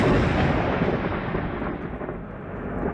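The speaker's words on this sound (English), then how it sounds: "What about thunder?" Thunder triggered in the VR god game Deisim rolls as a loud, dense, continuous rumble that fills the whole moment and slowly fades in brightness, with no talking over it.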